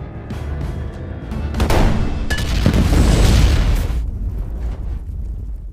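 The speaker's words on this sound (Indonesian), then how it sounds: "John meledakkan sisa uang yang berada di dalam berangkas sampai tidak ada yang tersisa." A large explosion in an action film as money left in a safe is blown up: a loud, rolling blast that swells and rumbles for a couple of seconds, then fades into a low ringing aftermath.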